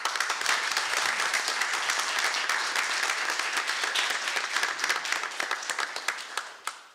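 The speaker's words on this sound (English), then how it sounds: "Big round of applause, please." Audience at a commission meeting applauding an award recipient, dense sustained clapping that holds steady, then thins into a few scattered claps at the end.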